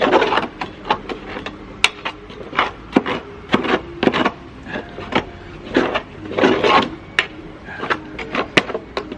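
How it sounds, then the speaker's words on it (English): A metal tool scrapes packed dirt out from under a petrol lawn mower deck, giving repeated close, gritty strokes in an uneven rhythm with short pauses between. "I just get a metal tool and scrape out all the dirt"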